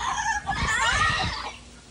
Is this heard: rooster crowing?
yes